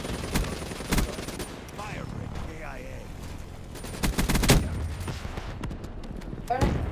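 Gunfire in Call of Duty: Black Ops 3 Team Deathmatch on Xbox One comes as several sharp bursts and volleys, with the heaviest clusters near the start and around the middle. Faint chirping game effects sound between the bursts.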